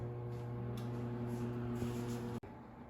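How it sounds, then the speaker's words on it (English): A microwave oven heating s'mores hums steadily with a low electrical drone and faint fan whir, ending with a brief click near the end. "And I'm going to microwave it for 30 seconds."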